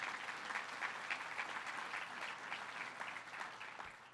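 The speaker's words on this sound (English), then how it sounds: "Let's give them a round of applause." Audience applause for a transit team at a conference hall, a steady, even wash of clapping from a large crowd, fairly distant and uniform throughout with no voices over it.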